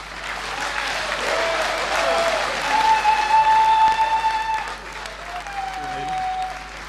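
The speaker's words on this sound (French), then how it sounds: "de Ernest Simon exceptionnelle qui a soulevé beaucoup d'applaudissements" Audience applause ringing out after a speech at the opening ceremony of a Cameroonian diaspora forum, a steady dense clapping that swells midway and holds throughout, with tonal background sounds layered over it.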